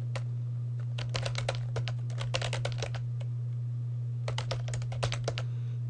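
Computer keyboard typing out a telnet command to a server, two quick bursts of crisp keystrokes with a pause between, heard over a steady low electrical hum.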